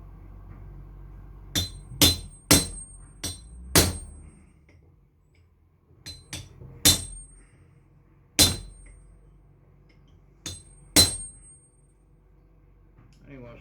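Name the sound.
hammering a chisel to cut open a transformer for copper recovery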